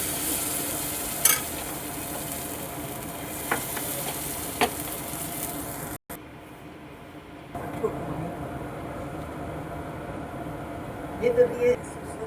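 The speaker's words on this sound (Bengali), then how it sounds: "নিয়ে এবার আমি ব্যাটারটা দেব।" Vegetable spring roll batter hits an oil-brushed kadai and sizzles, a continuous loud frying hiss with a few clinks and a brief cut midway. A person talks throughout.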